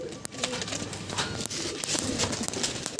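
Many pigeons coo at once in a continuous low, throaty chorus, close and fairly loud, with faint shuffling underneath and no talk.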